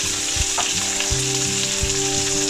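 Dried shrimp and chopped scallions stir-frying in hot oil for dim sum turnip cake, a steady close sizzle with soft scraping stirs of the spatula.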